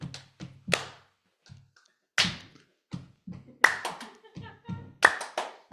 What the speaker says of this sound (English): Clap your hands now, people